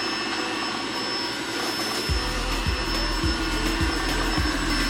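A home juicer switched to its low setting sets up a loud, steady motor whir with a deep, regular thumping pulse underneath, close and without talk.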